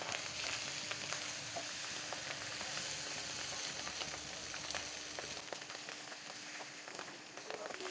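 Pabda fish fries in a mustard paste masala while being turned in the pan, giving a dense, steady sizzle with frequent crackles and spatula scrapes that quiets slightly near the end.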